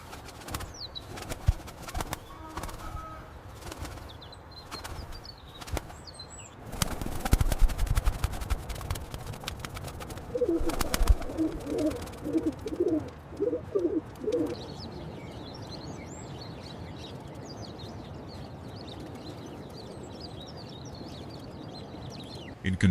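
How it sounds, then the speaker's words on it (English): Street pigeons: soft coos and bursts of wing flapping over a busy noisy background, with chirps from other birds, moderately loud throughout. "Most people dismiss street pigeons as mere pests"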